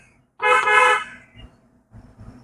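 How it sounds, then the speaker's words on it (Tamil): A single sustained car horn honk, loud and close, followed by low engine rumble and traffic noise. "one more horn"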